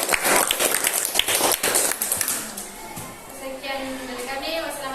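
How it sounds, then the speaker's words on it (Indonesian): Classroom applause from students during a lesson, a burst of dense clapping for about two seconds that fades into room murmur and talking voices. "Oke, bagus ya, berikan tepuk tangan."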